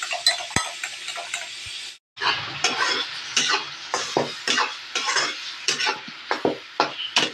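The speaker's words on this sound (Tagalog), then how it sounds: "Tatlong itlog lamang po itong ating ilalagay po natin sa ating nilulutong ginisang kamatis with egg." Eggs cooking in sautéed tomatoes in a pan, with soft sizzling and repeated stirring scrapes and utensil taps in an irregular rhythm, close and fairly quiet.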